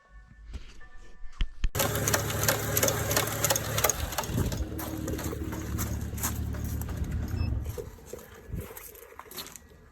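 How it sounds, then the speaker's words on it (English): A drive belt ripping apart on a 2011 BMW 335i E92 engine, a sudden loud onset of harsh broadband shredding and slapping with a rattling rhythm that continues for several seconds before easing off, close and alone. "And then the belt just started like ripping up."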